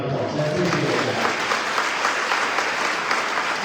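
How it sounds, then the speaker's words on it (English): Sustained audience applause fills a dinner hall at a political Lincoln Day dinner, a dense, steady wash of many hands clapping at close range throughout, with a voice faintly present beneath it. "Give this man a round of applause."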